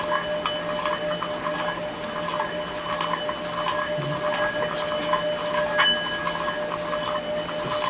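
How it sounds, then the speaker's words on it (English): A singing bowl rubbed under steady pressure gives a sustained metallic ringing tone that hums throughout, with faint scraping and rubbing noises layered over it. "Maintaining pressure on the bowl makes it sing."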